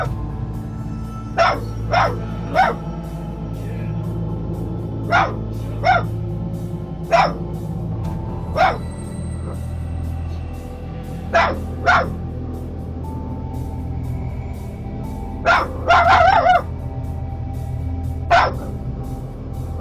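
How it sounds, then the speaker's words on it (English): A dog barks in sharp, loud bursts near a bedroom door at night, single woofs and quick doubles spaced a few seconds apart, with a tight cluster of rapid barks later, over a quiet low hum. "dog Buffy would occasionally bark aggressively at nothing"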